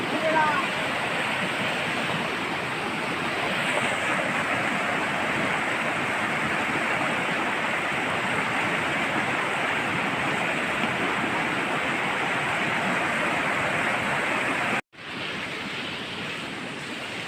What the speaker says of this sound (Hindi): वाह बहुत ही बड़ा खतरनाक आया पानी।